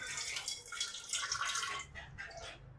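Hot water poured into a pot while cooking green chilli dal, a short trickling, splashing pour that tapers off after a couple of seconds, fairly quiet and close.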